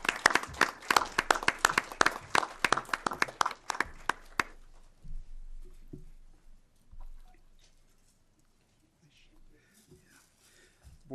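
An audience at a school board meeting claps for a board member, a dense burst of applause for about four seconds that quickly dies away into quiet room noise with faint murmurs.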